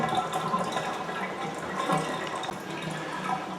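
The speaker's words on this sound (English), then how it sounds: "it's letting the jets drain out now." Steady rushing, gurgling water drains continuously at close range from the jets of a Kohler whirlpool tub, a dense wash of liquid noise with no voices.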